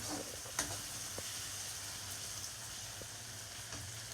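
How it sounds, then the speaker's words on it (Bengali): Onion and garlic fry in a pan, giving a soft, steady sizzle close by with faint scrapes and taps of stirring, quiet and continuous without talk. "এখন পাক চলতেছে, পেঁয়াজ রসুন কষানো হচ্ছে।"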